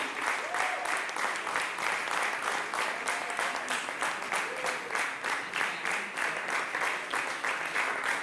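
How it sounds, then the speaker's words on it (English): Sustained applause from a large audience at a music business academy graduation ceremony, dense steady clapping throughout with a few faint voices mixed in. "Please keep the applause going"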